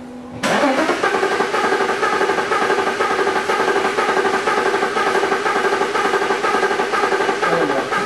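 A five-cylinder car engine cranks over on its starter motor, a steady rhythmic churning that begins abruptly and continues loud and close for several seconds, with no talking.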